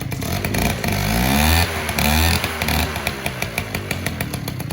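A small moped engine runs with a buzzy, revving two-stroke rattle. It rises in a couple of revs, then settles into uneven putters and pops.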